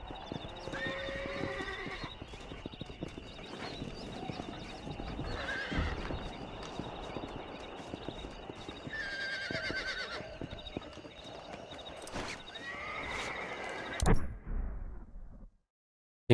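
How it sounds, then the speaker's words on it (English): Horses in the video game Red Dead Redemption whinny and neigh over continuous clip-clopping hooves, close and fairly loud throughout, before the sound cuts off near the end. "Pera aí que eu tô dando uma olhada de como trocar de cavalo."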